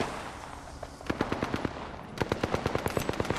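Automatic gunfire in Apex Legends on Nintendo Switch: a short burst of rapid shots around the one-second mark, a brief pause, then a longer steady stream of evenly spaced loud reports, with no talking.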